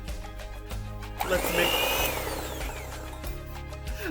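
Electric mixer whirring through cake batter after a teaspoon of vanilla extract is added, a steady motorized hum that rises and strains mid-way, with clattering against the bowl.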